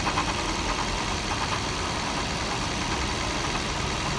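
A 2005 Toyota Prius engine idles with a steady, even drone and broad mechanical hum, close and constant throughout with no voices.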